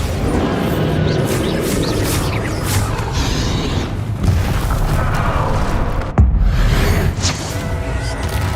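Bombarda spell explosion in the video game Hogwarts Legacy: busy combat noise with a sudden loud boom and crash standing out midway, followed by continued rumbling action.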